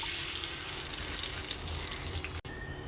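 Food frying in lightly heated oil in a pan, a broad steady sizzle with occasional stirring, close and continuous, ending with a brief cutoff and a quieter tail.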